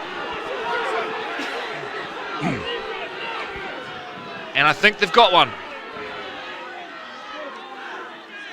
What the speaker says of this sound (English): the crowd noise is that heavy, I'm struggling to hear what's going on here